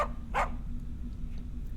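A dog in the Tiny Bunny horror video game gives two quick, close barks at the start, then falls silent over a steady low background hum.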